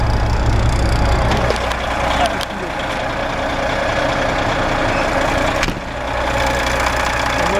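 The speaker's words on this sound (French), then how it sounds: "Le moteur il tourne bien, pas de fuite." A vehicle engine idles steadily and close by during a pre-departure check, a continuous low rumble with a couple of brief knocks or clunks partway through.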